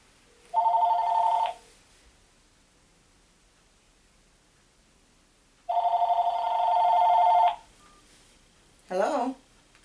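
A telephone rings in two long electronic trills several seconds apart, clear and close, followed by a short warbling tone near the end.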